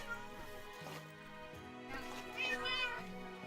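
Cats meow in the game Minecraft, several drawn-out, rising and falling mews overlapping a steady background of in-game music, moderately loud.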